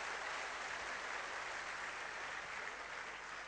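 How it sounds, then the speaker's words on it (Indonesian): Continuous, even applause from an audience at a business opportunity presentation, a dense hiss of many hands clapping together at a quiet, distant level with no breaks. "tepuk tangan kepada para sponsor Anda yang mengundang Anda hari ini Bapak Ibu"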